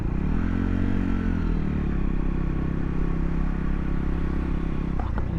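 Motorcycle engine idling unevenly in cold, snowy weather, a loud continuous rough drone with a wavering pitch near the start and a brief clatter just before the end, with no talk.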